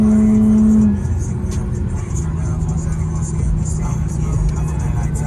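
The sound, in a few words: Infiniti G37 car accelerating on highway with AFE filters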